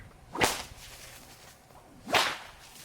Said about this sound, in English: now I'm going to go back to the crack sound